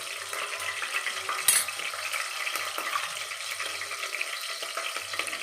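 Spices for mutton masala curry fry in a pan with a constant close sizzle, broken by soft scraping stirs and one sharp clink of a utensil against the pan.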